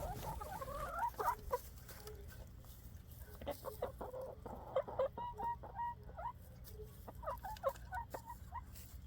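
Chickens in a backyard coop cluck and murmur close by, with repeated short clucks and drawn-out warbling calls over steady low background noise.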